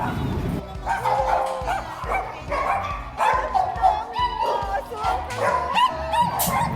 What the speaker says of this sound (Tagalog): ang dami-daming alagang dogs ni madam. As in, 40 daw ang aso dito.